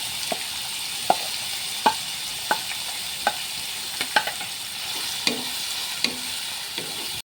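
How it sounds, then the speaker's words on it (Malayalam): Chopped pineapple sautés in hot ghee for payasam, a steady bright sizzle broken by regular scraping strokes of a stirring spoon about once a second, close and clear with no talking. "നെയ്ക്കകത്ത് നമ്മൾ നല്ലതോണം തുറന്ന് വഴറ്റിയെടുക്കണം"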